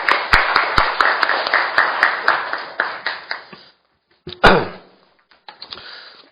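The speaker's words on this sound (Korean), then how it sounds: "박수로 맞이하시겠습니다" Applause from an audience at a Korean youth-safety forum welcoming a speaker, a burst of scattered hand clapping that fades out, followed by a few sharp knocks and rustling.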